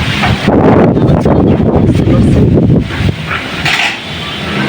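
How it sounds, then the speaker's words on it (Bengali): Strong wind rushes outdoors through trees ahead of rain, a loud, steady roar with gusty buffeting against the microphone and no clear talking. "বাইরে এতটাই বাতাস গাছপালা"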